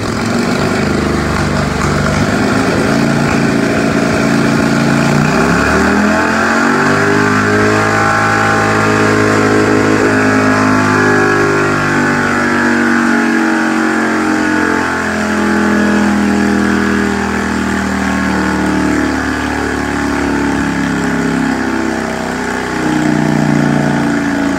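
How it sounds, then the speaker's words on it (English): A small engine runs steadily in an engine-governor demonstration, its loud, continuous drone shifting slightly in pitch as it holds speed, with no talking throughout. "I'll throw a really quick video here of one of our engines running today"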